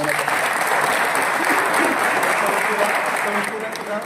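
A crowd at Purandar fort claps together during a Swarajya week tribute to Chhatrapati Shivaji Maharaj, with dense, steady applause that carries on throughout and eases slightly at the end.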